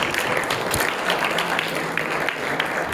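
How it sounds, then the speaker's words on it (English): A round of applause at a fund reception for a late donor, steady dense clapping from a gathered crowd, fairly near, with a faint voice underneath. "How about a round of applause for Louise and her generosity and her kindness"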